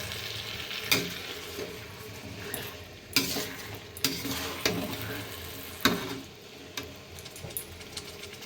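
Marinated meat being stir-fried in a pan, a low constant sizzle with irregular sharp scrapes and knocks of a spatula against the pan, fairly close and without talk.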